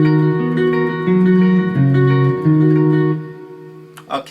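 Guitar riff, a bright, moderately loud sequence of picked notes changing pitch in a steady rhythm for about three seconds, then fading out into small handling noises.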